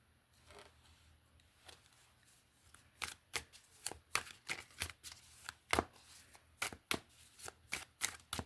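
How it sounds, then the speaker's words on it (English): Tarot cards being handled and laid out: quiet shuffling at first, then a rapid series of crisp card snaps and slaps in an uneven rhythm, close and clear. "I'm going to lay out this tarot"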